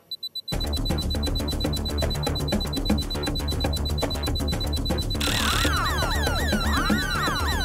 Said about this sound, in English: The burglar alarm has gone off!